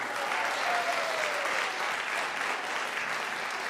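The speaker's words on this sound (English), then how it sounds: "they deserve like a round of applause" Audience applause at a university senior recital, a smooth, continuous wash of many hands heard from a slight distance, steady in level from start to finish.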